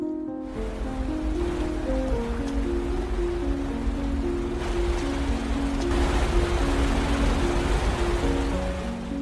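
Rushing waterfall water in a film scene, a broad continuous roar of falling water under a sustained musical score, with no speech.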